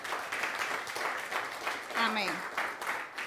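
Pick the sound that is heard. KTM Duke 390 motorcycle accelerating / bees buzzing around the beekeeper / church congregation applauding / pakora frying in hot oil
church congregation applauding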